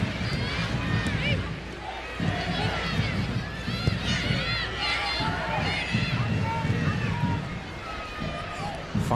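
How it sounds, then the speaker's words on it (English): Big, colourful stadium crowd in East Hartford cheering and murmuring during a USA vs Mexico women's soccer friendly, a constant festive roar under a commentator's voice with occasional whistles. "colourful, noisy, festive crowd here"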